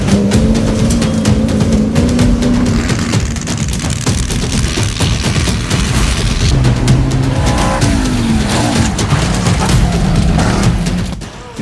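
Full-size desert racing trucks battle on a short course bull-ring track, engines roaring loud and continuous with tire squeal, skids and thumps, a dense crowded racing din throughout.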